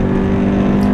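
Toyota GT86 sports car engine droning steadily while driving, a continuous close, loud hum with strong low tones throughout, no voices.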